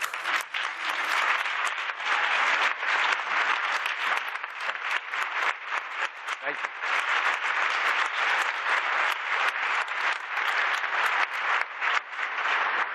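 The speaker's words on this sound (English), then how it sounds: "Let's stand and give Congressman a round of applause." A conference audience gives a sustained round of applause for a congressman, a loud, even wash of many hands clapping without pause.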